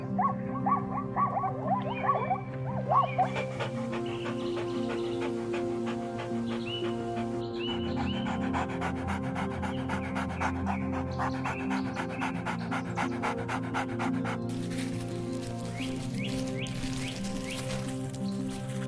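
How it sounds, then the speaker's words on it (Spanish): An African wild dog on the savanna pants in a long, steady, regular rhythm, close and continuous throughout, with a low rumbling bed beneath. "por una respiración larga y regular, como el pulso profundo de la tierra bajo sus patas"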